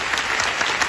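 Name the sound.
audience applause at community function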